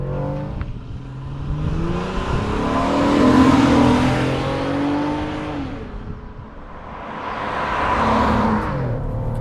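A 2002 Acura CL Type-S at full throttle, engine tone rising steadily through a gear, dipping at a shift near the middle, then climbing again in a second strong pull, heard from inside the car.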